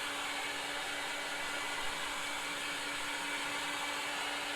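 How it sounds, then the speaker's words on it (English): A heat gun blowing steadily to dry fresh spray paint, an unbroken whooshing airflow with a constant motor hum, close and even throughout with no talk. "I'm just going to give it a quick blast with the heat gun to dry this paint out faster"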